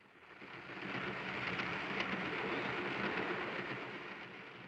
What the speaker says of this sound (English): The pounding of the train wheels on the soundtrack increases our tension